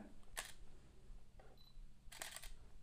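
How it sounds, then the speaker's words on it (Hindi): A Canon 200D Mark II camera shutter fires in a few short, crisp clicks, spaced apart and close by in a quiet room, with no talking. "अभी मैं फोटो क्लिक करता हूँ"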